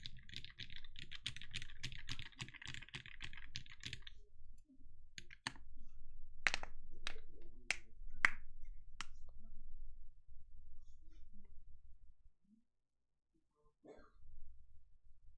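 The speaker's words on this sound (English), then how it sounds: "How does the keyboard actually sound?" Typing on a Keycult no1/65 keyboard fitted with Zealios V2 switches, heard up close and fairly quiet: a fast run of clacking keystrokes, then sparser, separate key presses, a short pause and a few final taps.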